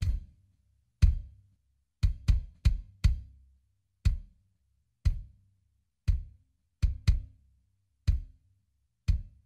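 Rock song bass drum track after compression and limiting, a louder run of kick hits in an uneven rhythm with occasional quick doubles, each a tight, punchy thump, heard alone with no other instruments.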